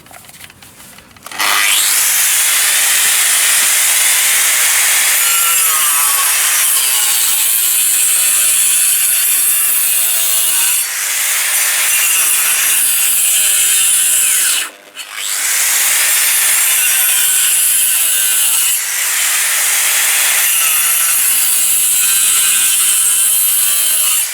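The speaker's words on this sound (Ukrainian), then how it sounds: "GVS на потужність 1200 Вт. Так, ставимо максимальні оберти." A seven-year-old GVS 1200 W angle grinder runs at maximum speed while cutting, giving a loud, continuous, harsh high whine. It dips briefly near the middle, then picks back up to full speed.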